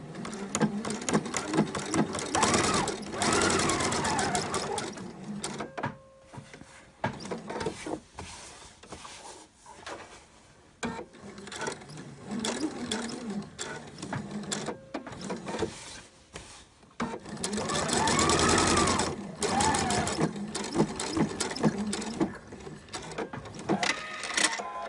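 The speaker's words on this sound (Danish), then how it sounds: "jeg kører lige en smal stikning rundt omkring slisen" A domestic sewing machine running a narrow line of stitching around a shirt placket in Liberty fabric, a close, steady whirring stitch rhythm in stretches broken by short pauses and fabric handling.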